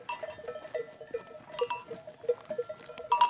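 Old Pırlak breed sheep in a flock make brief, low bleating calls against a quiet outdoor background, with a few clanking bell-like metallic notes, all close and intermittent.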